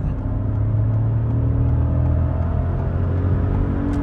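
A 2022 Ford Fiesta facelift with an automatic gearbox accelerating hard to overtake, its engine a steady low drone with a slowly rising pitch under road and wind noise, heard from inside the cabin with no talk.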